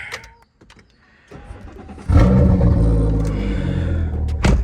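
A BMW's engine cranks briefly after some faint clicks, then catches and settles into a loud, steady low rumble close by.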